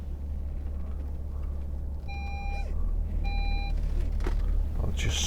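Inside a 2010 Audi Q7 3.0 TDI S line Tiptronic, a warning chime sounds as two short pulsed beeps over a steady low engine and road rumble while the car drives.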